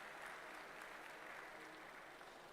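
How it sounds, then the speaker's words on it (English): Applause from a convocation ceremony audience for two medal holders seated on the dais: dense, even clapping from a large crowd, steady and faint throughout, with no distinct voices. "huge round of applause for 2 medal holders sitting on the dais"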